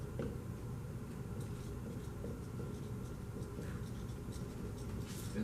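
Chalk or marker scratches and taps on a board during a chemistry prelab lecture, a soft continuous writing sound with small irregular ticks, fairly quiet and close, with no talking.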